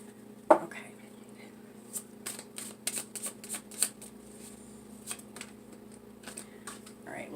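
Tarot cards being shuffled up close, with a sharp snap at the start followed by irregular riffling and flicking bursts over a quiet room hum, no speech.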